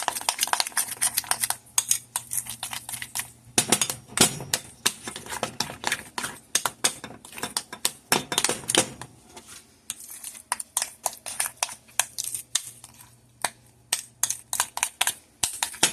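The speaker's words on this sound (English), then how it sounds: "Okay, so we're mixing up this icing." Cream cheese icing being mixed in a bowl, heard as a steady run of quick clinks and scrapes of a utensil against the dish, with a low hum underneath during some stretches.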